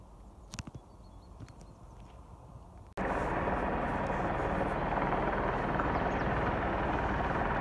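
After a few quiet knocks and clicks, a loud broadband roar suddenly starts and holds steady, like a helicopter's rotors and engine powering up nearby.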